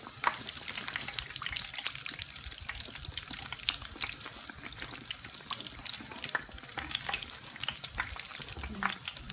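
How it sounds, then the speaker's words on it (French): Custard-filled beignets fry over low heat in hot oil, giving a steady dense crackling sizzle that runs throughout at an even level, close and without talk. "On va mettre nos beignets en espérant que ça ne va pas s'ouvrir dans l'huile. Il faut les frire à feu doux."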